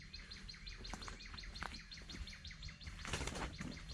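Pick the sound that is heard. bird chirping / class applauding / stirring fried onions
bird chirping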